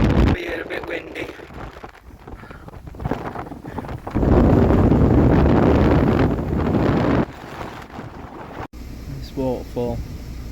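Strong wind on a mountain in the Arenig Mountains rumbles and buffets the microphone in gusts, loudest in the middle, with someone talking briefly near the start and end.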